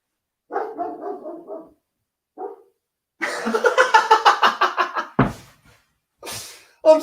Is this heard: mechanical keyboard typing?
no